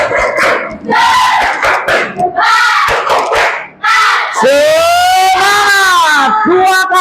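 A fourth-grade class in Indonesia does the rhythmic spirit clap, bursts of children's hand claps in patterned groups with loud shouted chanting between them, ending in a long drawn-out group cry.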